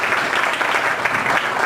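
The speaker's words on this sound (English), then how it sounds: "let's give him a big round of applause" A short burst of applause greets a speaker at a tech meetup talk, a moderately loud, brisk round of clapping from a modest crowd lasting under two seconds.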